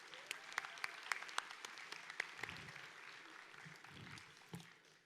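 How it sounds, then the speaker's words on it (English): A crowd at a Grade 8 moving-up ceremony applauds, sharp claps ringing out at first and then thinning into a softer, steady patter of clapping. "Let's give a round of applause again for our amazing MCs."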